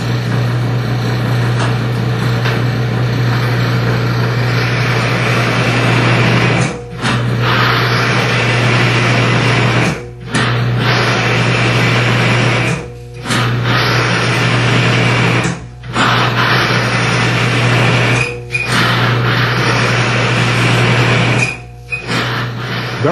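A lubricant test machine runs with synthetic engine oil, giving a steady loud mechanical drone with a low hum, broken by several brief drops into near silence at regular intervals of a few seconds.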